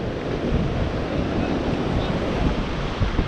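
Strong wind blowing outdoors, a loud continuous roar and buffeting across the whole span, with no voices.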